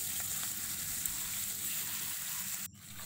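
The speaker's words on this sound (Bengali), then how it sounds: "নুন হলুদ মাখানো মাছ দিয়ে দিলাম।" Salt-and-turmeric-coated bata fish sizzles steadily in hot oil in a kadai, a loud continuous frying hiss with a brief dropout near the end.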